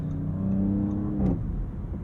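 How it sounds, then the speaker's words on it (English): A 2023 Audi S6 with a six-cylinder engine and sports exhaust, heard while driving: a steady, close engine drone with a brief rise in revs near the end, no talking. "the character of this sports exhaust is commendable"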